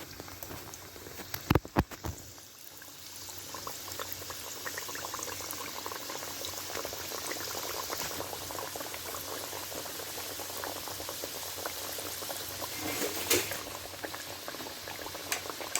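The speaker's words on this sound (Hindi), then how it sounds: "अब ऑयल हमारा गर्म है। बिस्मिल्लाहिर्रहमानिर्रहीम। मैं इसमें समोसे डालती हूँ।" Vegetable samosas deep fry in hot oil with a dense, steady bubbling and crackling that runs evenly throughout, with a couple of brief knocks near the start.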